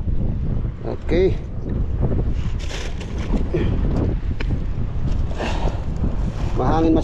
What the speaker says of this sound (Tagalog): Mahangin masyadong mga kasama